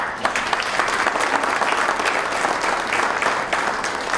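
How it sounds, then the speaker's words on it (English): An audience at a city's State of the City address gives loud, sustained applause, a thick wash of clapping close by with a few sharper claps standing out. "Let's give these guys a round of applause."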